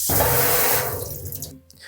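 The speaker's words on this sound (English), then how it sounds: "You can see now that the water running out of the strainer is way more clear." Rinse water drains through a strainer full of uncooked rice at a kitchen sink, a loud, splashy gush that thins out toward a softer trickle and scattered drips near the end.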